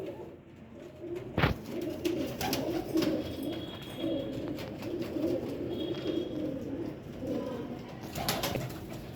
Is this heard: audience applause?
no